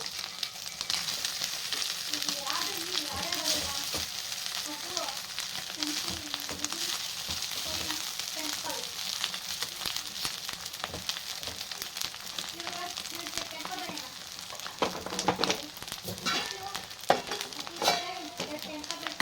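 Cooked rice for egg rice sizzles steadily in a hot pan while being stirred, with a continuous close frying hiss broken by scraping and tossing sounds, especially in the final seconds; no one speaks.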